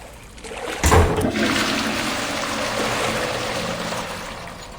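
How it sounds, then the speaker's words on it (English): A public toilet flushes with a sudden loud gush, then a steady rushing, swirling flow of water that holds for several seconds before slowly easing. "Well, the flush works."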